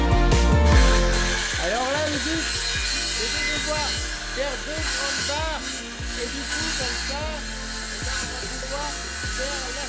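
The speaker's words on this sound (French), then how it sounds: "ce qu'on fait, c'est qu'on va le visser. Mais on va à chaque fois pré-trouer pour être sûr que ça bouge pas" Power drill driving screws and pre-drilling holes in wooden panels while building a set, repeated whirring bursts that rise and fall in pitch, close and fairly loud, with a voice talking at points.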